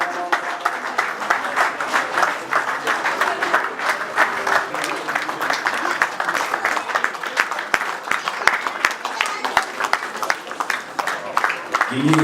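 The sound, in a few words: audience applause at a celebration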